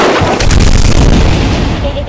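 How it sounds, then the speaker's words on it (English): A loud, sustained rumbling blast from a bomb explosion in a Chainsaw Man game fills the whole moment, heavy and close, with a player's voice mixed in. "Boom. Yeah, see that? I'm a bomb now."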